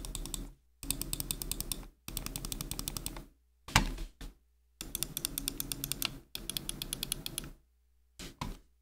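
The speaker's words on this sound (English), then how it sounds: "here's actually a sound test of how those clicks feel" Fantech Helios II Pro S gaming mouse buttons clicked in rapid bursts, crisp light clicks repeating quickly in several separate runs with short silent gaps, close and clear.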